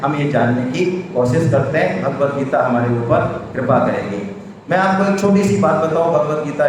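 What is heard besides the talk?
No distinct noise like a dog, phone or traffic.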